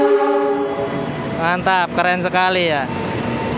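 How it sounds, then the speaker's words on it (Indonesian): The Argo Merbabu passenger train sounds a loud, close, multi-tone horn in two or three sustained blasts as it passes through without stopping, over a rumbling roar, while a person talks. "Kereta melintas langsung. Kereta api Argo Merbabu."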